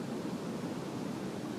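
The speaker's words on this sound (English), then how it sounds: "So just enjoy the sound of the waves." Ocean waves wash onto a beach in Thailand, a soft, steady surf roar without distinct breaks, heard alone and at moderate distance.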